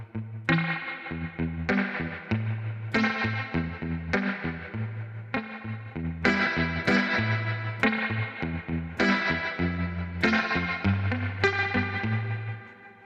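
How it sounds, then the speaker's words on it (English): An electric guitar from the e-Instruments Desolate Guitars plugin plays a steady run of picked notes and chords through spring reverb, each one ringing out with a lingering, shimmering tail, with no voices. "It's a very nice spring reverb you can hear there."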